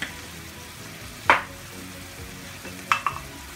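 Chopped liver and heart fry with spices in a pan under a soft, steady sizzle, broken by a few sharp scraping stirs of the utensil against the pan.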